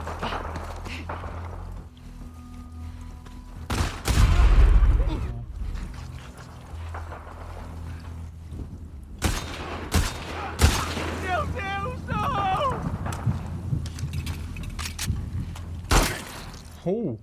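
Scattered gunshots and thuds in The Last of Us Part II, a few sharp bursts spaced irregularly over background game noise and occasional talk.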